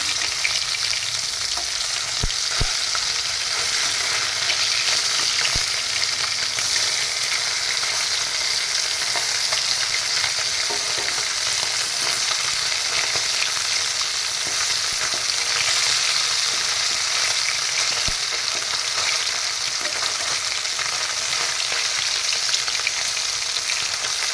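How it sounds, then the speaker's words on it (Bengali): Khaira fish fry in hot oil with a continuous, close crackling sizzle for a long stretch, broken by a few faint clicks of utensils. "দুটো ভালোভাবে ভাজা হয়ে গেলে নামিয়ে নেব।"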